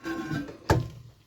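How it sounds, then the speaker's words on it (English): A porcelain tank lid on a blue 1969 American Standard toilet gets lifted off, giving a single dull clunk after a short scrape, close and fairly quiet. "I'll try and get this lid off here."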